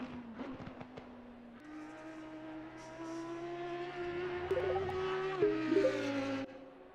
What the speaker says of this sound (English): What an incredible sound from the V10.